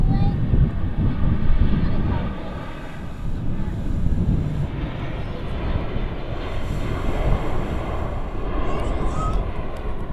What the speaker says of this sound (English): Another very smooth touchdown there from the 320neo.